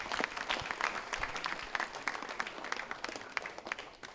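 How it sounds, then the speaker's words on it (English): A hall audience applauds the Honorable Governor at a college event in Morobe Province, dense steady clapping from many people sustained throughout. "Please, another big round of applause for our Honorable Governor."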